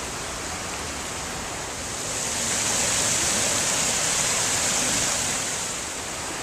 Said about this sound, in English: whenever I come by a river like this, I always think of him